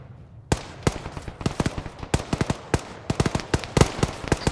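Rapid simulated gunfire from the video game ArmA 3 crackles in irregular bursts of sharp, loud shots, many overlapping in quick succession over a low background rumble.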